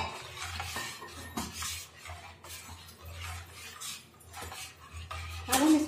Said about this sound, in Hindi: अब हम इसको हिलाएंगे